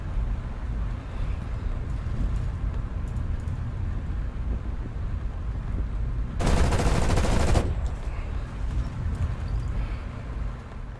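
Rapid aircraft cannon fire from a plane in the War Thunder combat flight game, one loud dense burst of about a second standing out over a steady engine and wind drone.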